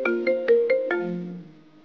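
Phone ringtone for an incoming call, a short bright run of five chiming tones in quick succession, then a lower sustained tone that fades out, loud and close with no talk.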